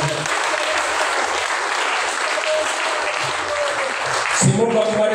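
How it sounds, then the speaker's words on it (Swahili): A church congregation bursts into sustained, dense applause that runs loud and continuous for several seconds, then breaks off as a voice begins speaking over the fading claps. "Makofi"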